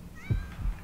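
A cat meows softly in the video game Yomawari: Night Alone, two brief mewing calls close together with no talking over them.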